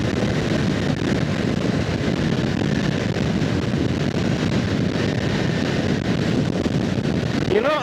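Strong wind buffets the microphone on a 2025 Honda Rebel 500 motorcycle in a constant roaring rush, loud and unbroken throughout, with a low rumble underneath.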